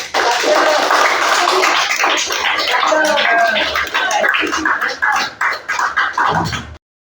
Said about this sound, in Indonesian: Kita berikan aplaus kepada.